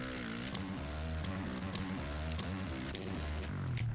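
A motocross bike engine in MX vs ATV Legends revs in second gear, a rough, buzzing, steady drone that climbs slightly in pitch over four seconds, faint in level and heard on its own.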